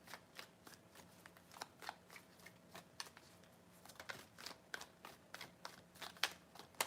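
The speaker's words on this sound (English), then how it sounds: "Three shuffles." Tarot cards being shuffled three times, a steady run of crisp, papery riffling flutters and soft slaps, close and fairly quiet, with no talking.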